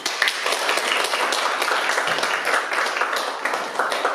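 Audience applause follows a lecture in a hall, a dense, steady wash of many hands clapping together for several seconds at close, even loudness.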